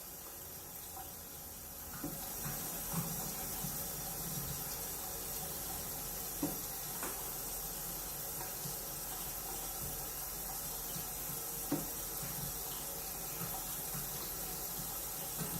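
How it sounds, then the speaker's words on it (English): Water runs steadily from a sink tap as hands are rinsed, a constant close hiss with a few faint knocks and splashes against the basin, and no talking. "And when rinsing off, you want to angle your hands down, not touching the sink, getting all the soap off."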